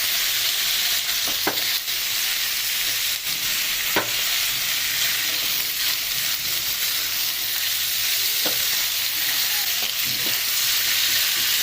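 Chicken skin fries in a pan with a steady, loud sizzle, and a few scattered scrapes and stirring knocks cut through the crackling.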